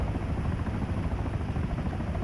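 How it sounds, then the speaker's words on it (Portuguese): A helicopter's steady rotor thrum in the video game ARMA 3 rumbles continuously throughout, loud and even, with no voices. "helicóptero à esquerda, helicóptero à esquerda, à esquerda"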